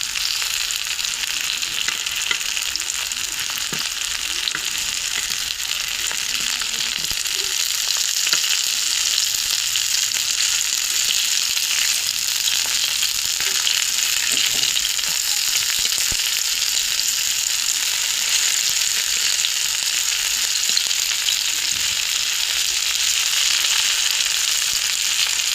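Bitter gourd (kakrol) slices fry slowly in a pan over low heat, giving a steady, unbroken hiss of sizzling oil that stays close and constant throughout.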